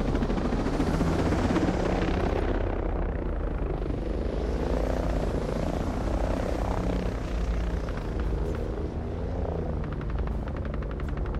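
Helicopter in the video game Ghost Recon Breakpoint thunders steadily with a deep rotor throb and engine whine, loud and close for the whole stretch, with faint distant gunfire toward the end.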